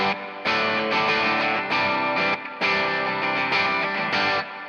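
Electric guitar played through a Quad Cortex amp model with reverb, a fairly dry tone: loud sustained chords with a gritty, driven edge, changing every second or so with brief drops between strums.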